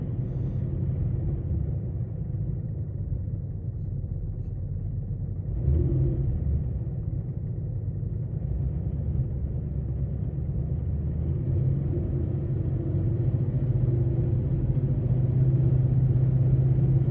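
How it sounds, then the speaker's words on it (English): Ford Coyote 5.0 V8 idling steadily with a slight misfire, a continuous low rumble close by with a faint uneven stumble in the beat and no talk. "a slight miss in the car though, which I didn't have before."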